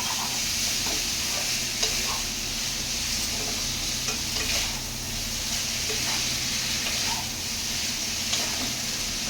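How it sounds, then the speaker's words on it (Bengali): Boiled chow mein noodles with egg being stir-fried in a pan at home, a steady sizzle and hiss with scraping stirring strokes running continuously throughout, fairly close, with no talking. "এবার আমি চাউমিনটাকে ভালো করে মিশিয়ে নেবো"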